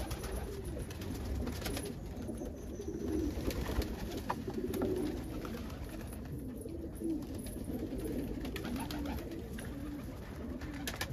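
Fantail pigeons coo inside a loft, soft low repeated coos layered over one another, continuous and fairly close against a quiet background.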